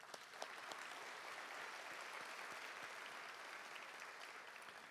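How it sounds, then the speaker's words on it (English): Applause from the audience at an APA Heritage Celebration, a dense, continuous patter of many hands, fairly faint and distant, holding steady throughout. "Please give them another round of applause."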